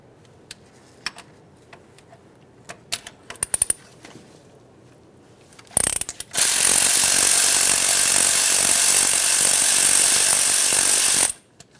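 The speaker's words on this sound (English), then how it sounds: "For each of these, we're going to be using a 3/8 drive Allen head socket." A power tool with a 3/8 drive Allen head socket works the brake caliper slider pins on a 1994-2001 Dodge Ram 1500 front brake. A few scattered clicks and taps lead into a loud, steady, harsh whir lasting about five seconds, then silence.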